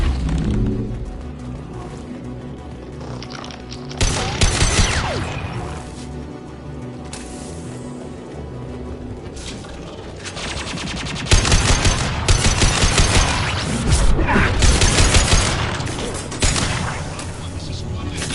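Gunfire in Mass Effect 2 rattles in sharp bursts and volleys, rising into dense, loud clusters in the later half. Voices talk over the combat.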